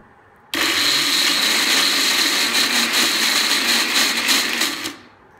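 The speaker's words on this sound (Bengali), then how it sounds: "আমি ব্লেন্ড করে নিব।" An electric blender grinds black cumin seeds with a loud, steady high-pitched whir that starts abruptly, runs for about four seconds at constant intensity, then winds down and stops.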